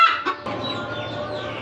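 Backyard desi hens clucking close by, a couple of short sharp clucks followed by a softer, drawn-out murmur, with no talking.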